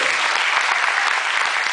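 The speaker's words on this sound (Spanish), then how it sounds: "aplauso más fuerte." Dense, steady applause from an audience at a Pecha Kucha night event, many hands clapping at close range without a break.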